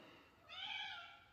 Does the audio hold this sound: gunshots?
no